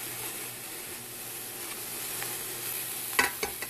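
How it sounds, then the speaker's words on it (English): Stewed beef sears in a hot pan, a steady close sizzle and hiss throughout, with a few sharper scraping stirs near the end and no talking. "We're gonna let this sear on this side here, and then we'll add our onions."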